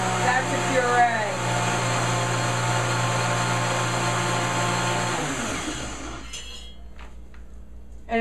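A kitchen blender whirs steadily at high speed, pureeing a creamy sauce-like mixture for a complementary meal, then winds down and stops near the end, leaving a faint clink.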